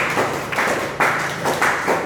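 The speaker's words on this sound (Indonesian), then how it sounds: "tepuk tangan dulu untuk kelompok 5." Applause from an audience for a presenting group in a classroom or seminar, a steady patter of many hands clapping, fairly close and continuous, with no talk over it.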